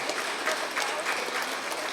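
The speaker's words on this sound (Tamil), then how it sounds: "உங்களுடைய பலத்த கைத்தட்டல் மூலம், பலமாக கைத்தட்டினா நல்லா இருக்க" Steady, dense applause from a ceremony audience honouring students, sustained and fairly loud throughout with small swells in intensity, no voices.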